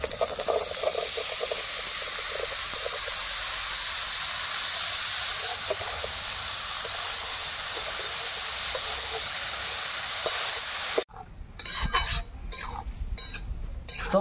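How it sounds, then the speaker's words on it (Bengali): Wild mushrooms dropped into a pan of fried spice masala sizzle with a steady close hiss, then the sound cuts sharply and breaks into bursts of crackling and stirring. "মশলা সুন্দর কষিয়ে নিয়েছি, এখন দেবো ধুয়ে রাখা ছাতু।"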